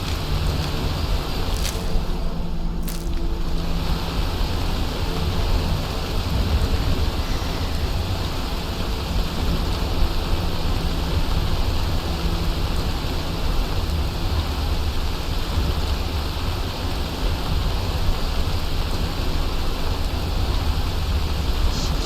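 Steady, dense rain in Skyrim hisses without a break, a broad wash of noise with no voices over it.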